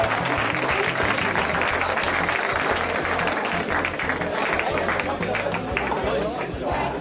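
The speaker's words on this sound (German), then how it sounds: "Ja, ein Applaus für die Sieger" A crowd at the Angerlalm Trophy 2012 award ceremony applauds the youth winners: steady, dense clapping from many hands, with some chatter mixed in throughout.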